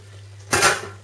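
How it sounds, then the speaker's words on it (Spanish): Fritada being stirred in a pan: one short metallic scrape and clatter of a utensil against the pan, rising suddenly out of quiet and fading within half a second. "Y lo removemos todo."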